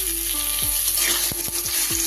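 Diced potatoes frying in leftover oil from frying paneer, with a steady close sizzle and a few clinks of stirring in the pan.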